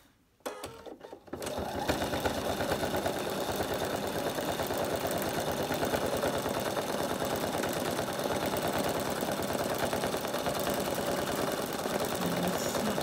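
A sewing machine runs fast and steadily through free-machine embroidery on a vintage caravan design. The rapid needle clatter is close and even, and it starts after a few brief knocks at the beginning.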